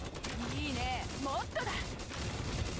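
Gunfire in a video game comes as dense, rapid bursts that blend into a constant crackling barrage, heard under and between a player's spoken voice.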